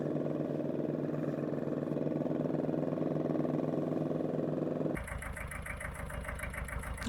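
A Kubota L1801DT compact tractor engine runs steadily at close range, a continuous droning hum that shifts to a higher, rougher tone partway through.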